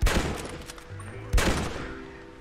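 Gunshots in Red Dead Redemption, two sharp reports about a second apart, each ringing out with a short echoing tail.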